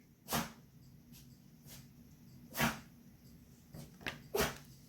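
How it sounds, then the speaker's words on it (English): Loud, close sniffing in several sharp bursts, a few quick inhales spaced irregularly over a quiet background. "I don't know why he's like sniffing so loudly."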